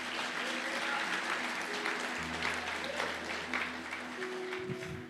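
A church congregation applauds in sustained, fairly distant clapping that fills the whole stretch, with faint crowd murmur beneath.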